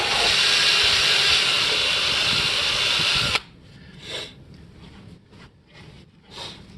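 A loud, continuous whirring drill grinds steadily through a rubber mud flap for a 46-inch single-stage snow blower impeller for several seconds, then cuts off abruptly, followed by quieter scattered handling noises.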